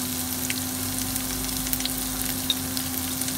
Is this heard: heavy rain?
no